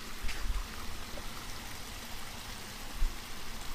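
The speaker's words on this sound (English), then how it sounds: "So we hear more bubbling and gurgling." Bubbling, gurgling stream water flows steadily through a wetlands park, a soft continuous wash of trickling water with occasional faint low gurgles, heard alone without talk.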